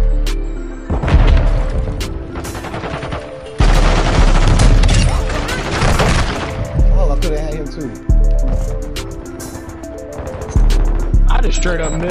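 Rapid bursts of gunfire in Call of Duty Modern Warfare 2 online multiplayer, loud and sustained with booming shots, while players talk over it.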